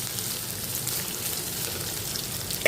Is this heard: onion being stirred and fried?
yes